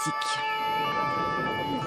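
Police sirens wail with steady, held tones during an arrest, while a voice talks over them.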